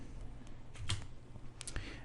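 Quiet keyboard typing on a Windows computer as ipconfig is entered at a command prompt, a few soft clicks over faint background hum.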